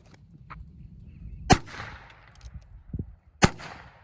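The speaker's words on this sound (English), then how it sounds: "I'm just gonna shoot it again with the 22" Two sharp .22 LR rifle shots fired at a plastic bottle outdoors, spaced about two seconds apart, each a crisp loud crack with a short echoing tail over quiet background.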